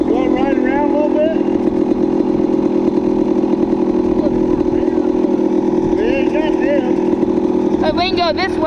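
Dirt bike engines, a Honda CR250 and a Yamaha YZ250, idle and rev on a trail with a loud, steady buzzing drone that stays close throughout, while people talk over it.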